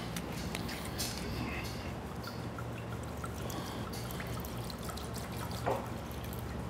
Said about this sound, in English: we are going to place the white wine in this pot